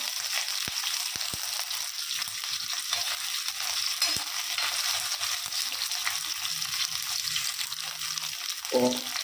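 Shallots and ginger-garlic paste sizzle steadily in a pan for a village-style country chicken fry, with faint stirring scrapes and a brief clatter near the end.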